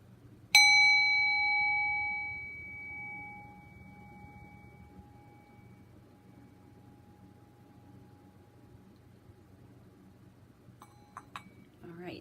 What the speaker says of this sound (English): listen to the sound of the bell to help balance your body's energies